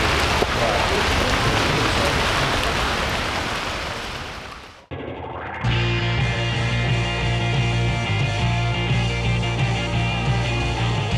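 Steady rain patters densely for several seconds during a motorcycle trip on a Voge DS525X, fading out before a sharp cut into a different, more tonal stretch with rhythmic low sounds; no voices are heard.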